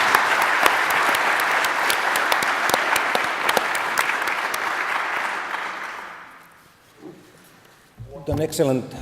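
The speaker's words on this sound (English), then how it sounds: "Let's give a final round of applause for our presenters and discussants." Loud, dense audience clapping for about six seconds, fading out, followed by a voice starting to speak.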